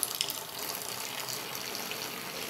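About two litres of liquid poured slowly down the side of a cooking pot, a steady, soft, continuous splashing gush that runs the whole time with no voices over it.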